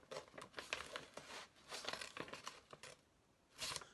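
Scissors cut through paper with quick snips and crinkling rustles, faint and close, irregular bursts with a slightly louder rustle near the end.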